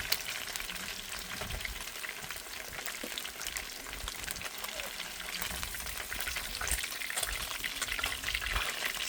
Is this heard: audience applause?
no